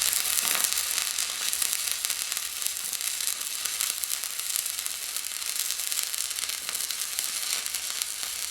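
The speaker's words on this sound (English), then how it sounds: "As you can see, it does weld it." Stick welding with a 1/8 inch 7014 rod on a Fronius Transsteel 2200: a steady, close crackling sizzle of the arc that runs without a break, with no voices.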